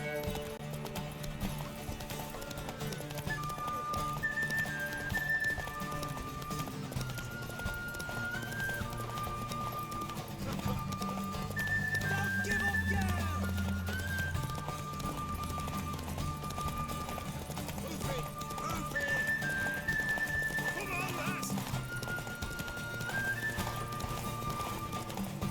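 Hoofbeats of a horse in The Witcher 3 clip-clop steadily and close for the whole stretch, with several whinnies rising over a low rumbling game score.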